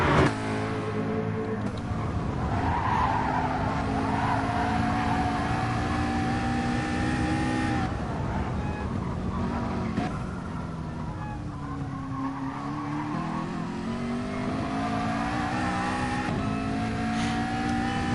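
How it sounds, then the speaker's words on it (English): Engines of McLaren race cars in a racing video game, a steady loud drone that rises and falls through gear changes and cornering over the whole stretch, with tire noise in places. "Really hustling this McLaren round is Fabuki"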